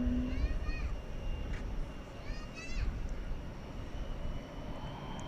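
An airplane engine rumbles on the runway at DFW Airport at night, a steady broad roar at moderate distance, with radio chatter and faint tones heard over it.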